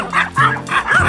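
Several dogs bark close by in a quick, overlapping series of yips and bow-wows, loud and near, with a whining edge to some calls and no gaps of quiet between them.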